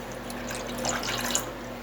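Water running and splashing into a pot or bowl as the first step of cooking tikoy, a sticky Chinese New Year rice cake made with brown sugar; a steady, close trickle with soft splashes and no voices.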